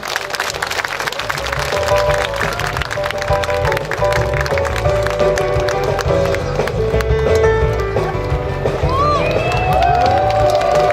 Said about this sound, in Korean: 판소리의 대가 조통달 선생을 큰 박수로 모셔주시기 바랍니다